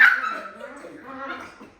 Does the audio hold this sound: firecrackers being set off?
no